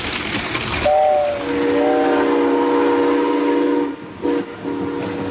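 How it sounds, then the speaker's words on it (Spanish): Train passing at speed, heard as a loud continuous rumble with sustained tonal whistle or horn-like lines and brief dips near the end, no talking. "este tren está pasando a buena marcha"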